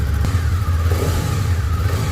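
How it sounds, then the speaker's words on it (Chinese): A KOVE Thornbird 250RR sport motorcycle engine runs steadily nearby, a smooth, even mechanical hum with no speech. "好，接下来我们听一下发动机的运行声音。"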